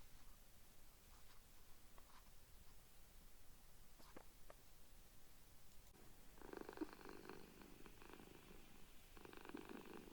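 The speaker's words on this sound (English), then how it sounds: "felt the soft, rhythmic roll of the cat's purring" A cat purrs, the steady rhythmic rumble beginning a few seconds in after quiet rustling and continuing close and moderately loud to the end, with no talking.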